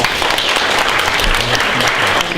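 An audience at a junior hackathon show-and-tell gives a brief, loud, continuous round of applause for a student team, with dense clapping throughout and faint voices mixed in.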